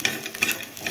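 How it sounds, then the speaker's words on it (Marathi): Garlic and ginger dry-roasting in a pan for a village-style cluster bean curry give a brief, close scraping and stirring rustle with a faint crackle, with no voices. "त्याच्यामुळे हा लसूण थोडासा भाजते मी, अद्रक आणि लसूण"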